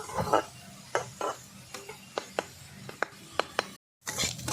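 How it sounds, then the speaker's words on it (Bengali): Small shrimp frying in a pan, with a low steady sizzle under repeated sharp scrapes and taps of a spatula against the pan, then a brief drop to silence before the sizzle returns. "এটা ভালো করে একটু ভেজে নেব"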